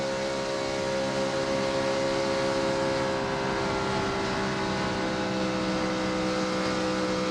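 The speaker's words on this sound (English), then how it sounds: "you can hear the tone of that engine change" A NASCAR Truck Series race truck at Michigan in 2008 roars down the back straightaway, its engine a loud, sustained droning tone held at high revs throughout.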